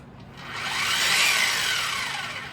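An Eastwood Contour SCT surface conditioning tool, set to speed 4 of 6 on a drill press base, whirs up slowly, holds a loud high whine, then winds down, with no one talking.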